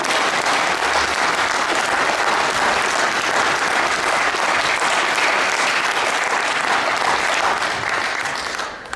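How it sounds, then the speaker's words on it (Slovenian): A concert audience at the Zvezde na snegu event in Gorje, Slovenia, applauds in a dense, sustained wash of clapping that holds steady and close for about nine seconds before easing slightly at the very end. "Dajte en aplavz, prosim."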